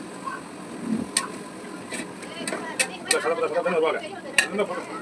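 Onions and tomatoes are stirred and sautéed together in a pan for biryani. Scattered metallic clinks and scrapes of the spoon sit over a soft background sizzle, close by, while a voice talks.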